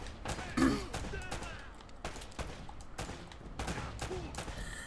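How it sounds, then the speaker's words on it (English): Bursts of gunfire aimed at the player in the action game Uncharted: Drake's Fortune, several sharp volleys spread across the moment, fairly quiet, with voices talking over them. "Oh shit, you're getting shot."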